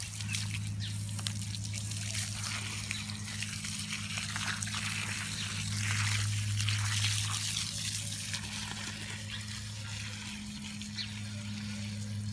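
Water poured onto garden plants in a yard, a soft continuous trickle and splash under a steady low hum, faint and unbroken throughout.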